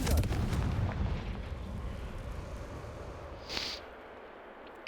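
A fiery Confringo spell blast in the Hogwarts Legacy video game erupts as a loud, rumbling explosion at the start, decaying into a long noisy tail, with a brief hiss of a second burst near the end.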